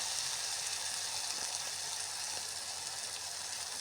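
Chopped onion and tomato fry in oil in a pan for Maharashtrian matki rassa, giving a steady, fairly loud hiss and sizzle with faint crackles throughout and no talking.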